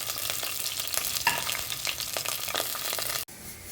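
Chopped onions and green chillies sizzle and crackle steadily in hot oil, close and continuous, with stirring scrapes throughout before a sudden cut near the end.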